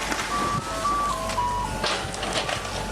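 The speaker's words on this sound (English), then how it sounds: "It's nice to have the ice cream truck here, though." An ice cream truck's tinkly melody plays at moderate distance, a few simple tones drifting over a steady outdoor background hum.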